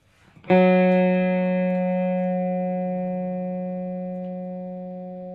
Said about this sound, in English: So now I have chorus, but I have delay.